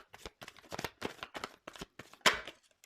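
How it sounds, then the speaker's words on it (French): Tarot cards riffled and flicked so they pop out of the deck, a quick run of close, crisp papery snaps and flutters in bursts, ending on one louder slap. "je tire pas, je fais sauter les cartes"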